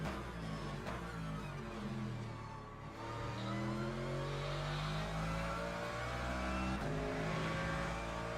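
A race car in the Le Mans Ultimate video game passes on the straight, its engine a sustained, rising whine with shifting tones climbing and falling as it draws alongside, heard over the steady hum of another car's engine.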